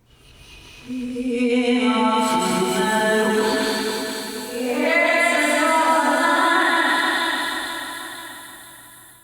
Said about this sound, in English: if I play back this reversed version and add some other reverberation to it, it sounds like this